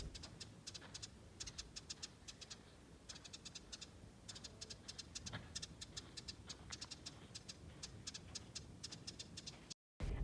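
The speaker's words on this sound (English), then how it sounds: "These are desert wood rats, but I didn't have to see any. You can just hear them." Desert wood rats at Joshua Tree National Park chirp in clusters of rapid, high, clicky squeaks that repeat in bursts over a faint outdoor background. The sound is quiet and somewhat distant, and there is no talk.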